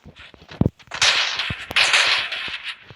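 An M590 shotgun fires in a video game, giving a few sharp, loud bursts and cracks followed by ringing noise, with no talking.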